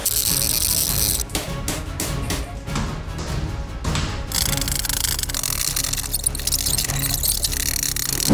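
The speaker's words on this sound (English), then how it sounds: "They're out there with the Sawzall. It's going down." A reciprocating saw rasps and chatters up close during house demolition. The loud, continuous grinding has a rapid rhythmic stretch in the middle and runs without talk.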